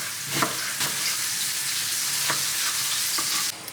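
Steady, close sizzling of chicken frying in a hot pan, with a few soft scrapes of stirring mixed in.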